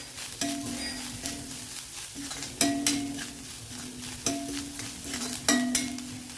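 Vegetables, including brinjal, fry in oil in a pan, with a soft continuous sizzle as a utensil stirs and scrapes the pan in a regular rhythm of clinks about once a second, close and moderately quiet.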